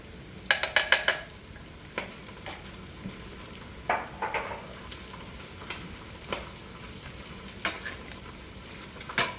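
Philly beef and peppers are stirred in a pan, producing a steady soft sizzle broken by irregular scraping clatters of a utensil against the metal, close and moderately quiet.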